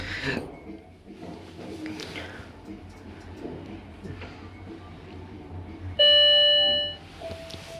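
A ding-dong gong chimes loudly in an apartment block lift, its bright harmonic tone ringing out and decaying over about a second, standing clear above a steady background hum and murmur.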